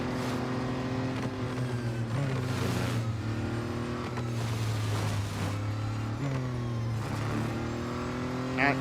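Race cars lapping a circuit in the Real Racing 3 video game, a sustained engine whine shifting pitch with gear changes, heard under someone talking.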